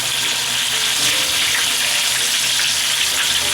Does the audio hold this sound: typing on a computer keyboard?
no